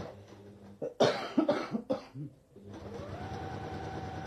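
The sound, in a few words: sewing machine stitching a bag lining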